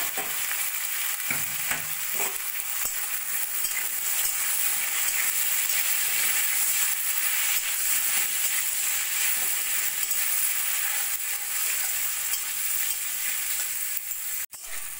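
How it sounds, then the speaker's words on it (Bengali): Boiled jackfruit frying with golden onions in a pan makes a steady, close sizzle, with a few stirring scrapes early on and a sharp clack of the utensil near the end. "এঁচড় কিছুক্ষণ পেঁয়াজের সঙ্গে ভেজে নিয়ে"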